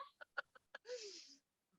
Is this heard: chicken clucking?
yes